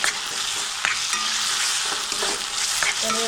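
Vegetable filling for veg frankie rolls sautéing in a hot pan, a dense continuous sizzle with spatula scrapes and occasional taps against the pan, close and loud, without speech.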